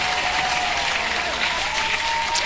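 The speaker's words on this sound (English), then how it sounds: "Hand clap to you." Steady applause for giveaway winners, dense and even throughout with a faint tonal whistle running beneath the clapping, no pauses.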